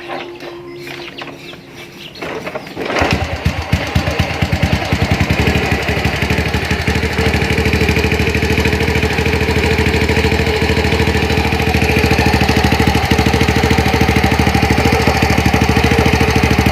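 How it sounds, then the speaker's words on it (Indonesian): Honda Astrea Grand motorcycle with a 130cc bore-up semi-racing engine starts after a quiet moment, then settles into a loud, close, steady idle with a rapid even putter that stays unbroken to the end. "kita akan coba hidupkan motor Grand ini"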